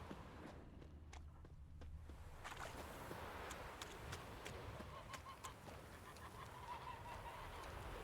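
Ducks quack in The Witcher 3 video game, a few honking calls rising over a constant, noisy game-world ambience in the background.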